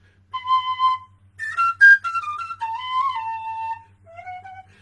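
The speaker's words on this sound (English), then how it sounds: "It's just easier to pick up a penny whistle and do it." A penny whistle plays a short, bright melody of clear, sustained notes with brief pauses between phrases, close and alone.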